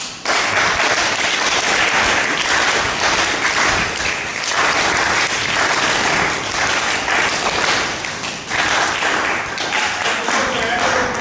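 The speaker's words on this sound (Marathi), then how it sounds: "सद्दाम भैया शेख यांचा वाढदिवस आहे, तर आपण सगळ्यांना वाढदिवसाच्या टाळ्या घ्या" A crowd at a birthday celebration for a local young leader and social worker in Miraj claps steadily and loudly, with dense, sustained applause filling the space and lasting throughout without a break.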